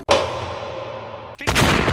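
A gun fires in the video game Party Animals, with two sharp loud bang bursts: the first rings out and decays slowly, and the second hits just over a second later.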